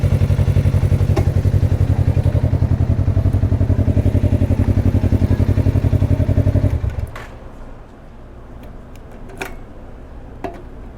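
A Suzuki GSX-R motorcycle engine idles loud and close in first gear with a fast, even, rattling pulse, then cuts out abruptly and leaves only faint clicks and small knocks.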